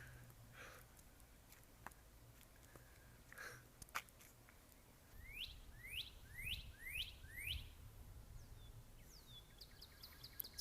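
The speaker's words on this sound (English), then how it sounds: "This beautiful red bird." A red bird gives a run of quick, bright, rising chirps in the middle of the clip, with a few more later. It sounds fairly close against quiet background noise.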